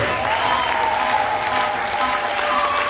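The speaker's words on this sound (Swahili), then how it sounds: "Makofi yanatosha kwa Yesu." A church congregation gathered for a men's celebration claps steadily and densely, a loud unbroken wash of applause with a faint voice blended underneath.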